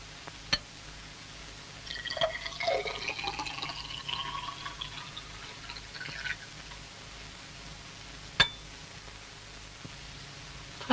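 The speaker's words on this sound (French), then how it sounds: "Tu veux verser ton sirop dans le grand verre?" Syrup is poured into a large glass as a soft, faint trickle lasting a few seconds, rising slightly in pitch as it fills, with a couple of light clicks around it in a quiet room.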